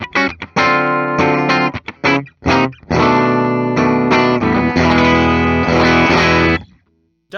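A 1984 Gibson Challenger electric guitar heard through its pickup, strummed chords with a gritty, slightly distorted edge, loud and close with brief gaps early on before sustained ringing strums, then a fade to quiet.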